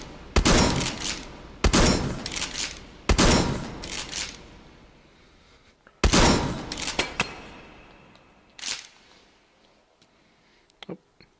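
Gunfire from a gun in the VR shooter Hotdogs, Horseshoes and Hand Grenades: sharp, loud shots come in separate bursts with short gaps, each ringing briefly and then tailing off, followed near the end by a few fainter clicks.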